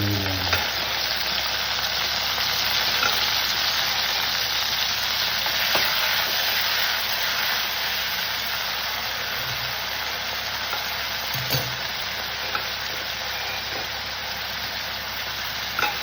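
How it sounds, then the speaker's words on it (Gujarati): Pumpkin pieces fry in a pan for a healthy soup, a steady moderate sizzle with occasional soft stirring scrapes, and no voices. "આપણે બે કપ જેટલા આ પંપકિન લીધા છે અને બરાબર હલાવતા રહીશું"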